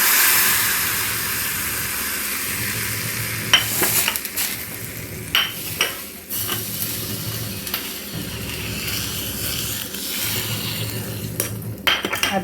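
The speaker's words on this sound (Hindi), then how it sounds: "और ये पूरा बघार इस दाल में डालेंगे।" Hot red chili tempering (baghar) hits a pot of moong dal with a sizzle, followed by stirring and the clink of a metal spoon against the pot in bursts.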